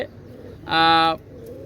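A single short, harmonic, tonal call rises out of quiet background murmur for about half a second, likely from a pigeon among high-flying pigeon breeds.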